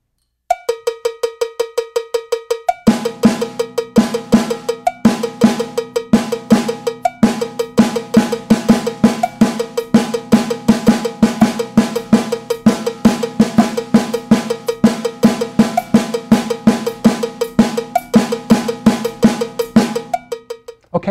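A drum pattern of eighth-note triplets played on a cowbell-like percussion voice, loud and steady, with a brief pitched tone at the start before a continuous run of evenly spaced triplet strikes.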